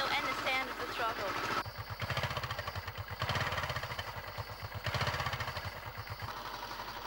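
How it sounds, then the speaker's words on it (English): A motorcycle engine idles steadily at a good speed, its low regular firing pulses running throughout, with a brief spoken voice near the start and a slight rise as the throttle is blipped. "You can tell by the sound of the motor that the bike is idling at a good speed"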